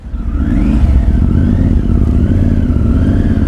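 A Triumph Tiger 900 Rally Pro adventure motorcycle pulls away with its engine climbing through the revs, loud and close, with nobody speaking.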